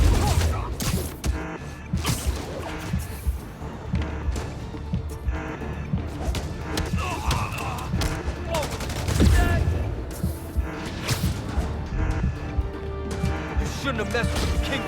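Heavy automatic gunfire and crashes in the video game Marvel's Spider-Man Remastered, continuous loud volleys layered with impacts and game music, voices speaking over the action.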